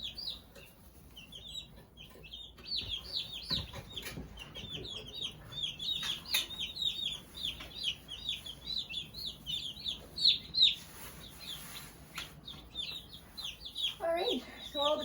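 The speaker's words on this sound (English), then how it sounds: "all the baby chicks are settled" Tiny newly arrived baby chicks peep in high, rapid, overlapping chirps throughout, settling into a new brooder home, with occasional soft rustles and handling noises underneath.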